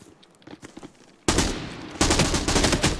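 Gunfire in the Arena Breakout: Infinite video game: distant scattered shots at first, then sudden loud, rapid automatic bursts that continue in close, dense volleys.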